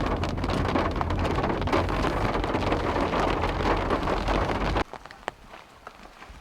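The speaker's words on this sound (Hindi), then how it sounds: "वहीं पे हम लोग आए एंड बारिश शुरू हो गई।" Heavy rain pours down near Kasar Devi Temple in a dense, steady hiss for several seconds, then cuts off abruptly, leaving a few scattered drips and taps.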